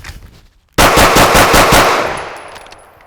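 A pistol shot rings out at a shooting range right after a quick draw: one sharp, loud report followed by a rapid string of closely spaced shots, then a fading echo.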